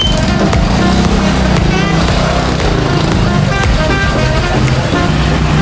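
Loud, dense street traffic in Lapu-Lapu roars continuously, with car horns tooting and engines of cars, buses and motorbikes blending close by in a busy roadway din.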